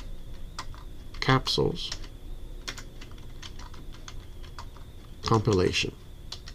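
Keys on a computer keyboard tick in scattered taps while someone talks over them.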